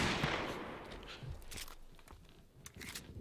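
A handful of sharp Desert Eagle pistol shots crack out at irregular intervals amid game ambience in Call of Duty: Modern Warfare Remastered, with some shuffling and clatter between them.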